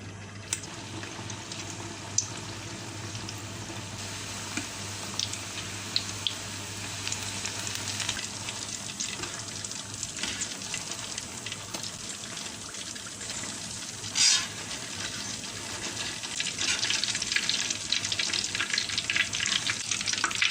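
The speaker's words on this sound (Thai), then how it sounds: "เสร็จแล้วเราเอาขนมของเราลงทอดเลยนะคะ" Thai fried chive cakes bubbling in hot oil over medium heat, a steady dense crackling sizzle that carries on throughout and swells slightly near the end, close by with no talking.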